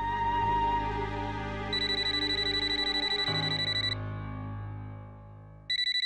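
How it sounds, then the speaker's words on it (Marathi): A phone ringtone plays loud and close, a steady electronic melody with bright repeating tones that cuts off abruptly before a short burst resumes at the end. "फोन तरी घ्या."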